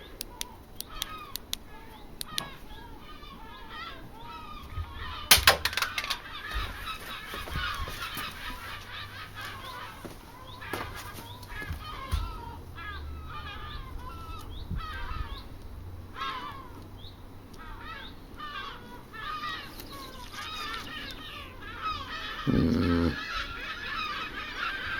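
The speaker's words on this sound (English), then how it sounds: "Are the seagulls laughing? I think they are." Seagulls calling, repeated honking, laughing cries at moderate distance, overlapping with occasional low thumps and faint talk in the background.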